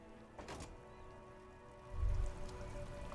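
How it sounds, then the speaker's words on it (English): Steady rain falling over the city of Revachol in the video game Disco Elysium, a soft continuous patter with a brief heavier swell of drops near the end. "All around you, rain falls on the great city of Revachol."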